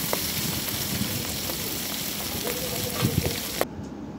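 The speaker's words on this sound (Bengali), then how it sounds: "এরকম ভাবে সব মাছগুলো ভেজে নেব" Rupchand fish frying in hot oil in a wok, a dense steady sizzle close by with a few crackles and pops, cutting off abruptly near the end.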